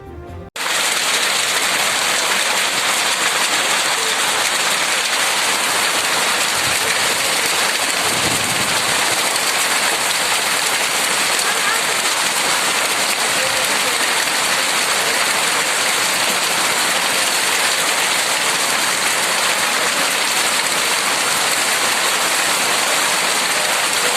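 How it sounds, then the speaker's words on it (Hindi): Heavy rain driven by strong wind pours down in a dense, continuous roar for the whole stretch, loud and steady, with a brief gusty thump early on. "शनिवार और रविवार को तेज हवा के साथ हुई बारिश"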